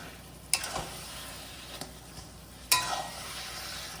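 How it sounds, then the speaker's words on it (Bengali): Coconut mixture for naru stirred in a pan over heat, a few scraping strokes with faint sizzling, quiet and close, with no talking. "ঠিক এরকম ভাবে নাড়া দেবে যাতে কি হয় পাকটা পুরো নাড়তে পায়"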